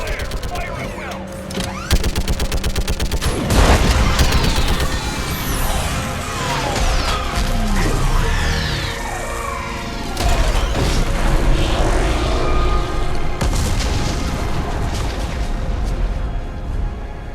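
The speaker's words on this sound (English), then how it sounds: "I need an orbital strike. Clear. Fire at will." An orbital strike in Mass Effect rains down on a live Reaper: a loud, sustained barrage of rapid gunfire-like blasts and heavy booms that rolls on for the whole stretch, thick with mechanical roar.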